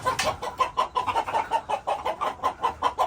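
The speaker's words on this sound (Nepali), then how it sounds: "फेरि कुखुरा समात्न गाह्रो हुन्छ नि छोरा" A chicken being chased gives a steady run of short, rhythmic clucks, roughly five per second, fairly close but moderate in level and heard alone.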